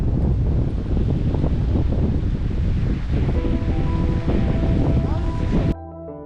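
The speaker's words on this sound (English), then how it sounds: "It's bloody howling windy, I don't know if you can hear it." Strong, steady wind roars and buffets the microphone beside the Murrumbidgee River, carrying a broad continuous rush for several seconds before cutting off abruptly near the end.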